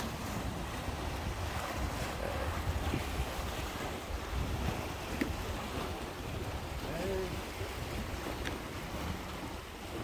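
Sea waves roll and wash near a fishing spot off the coast, a continuous rushing surf mixed with strong wind buffeting the microphone, steady and fairly loud throughout.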